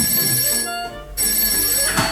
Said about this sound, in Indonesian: Bunyi HP siapa tuh?